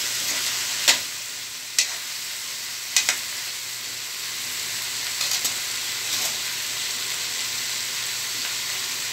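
Pork and aromatics sauté in a pan for sinigang, sending up a steady loud sizzle and hiss with occasional sharp clicks of a utensil stirring against the pan, close and continuous.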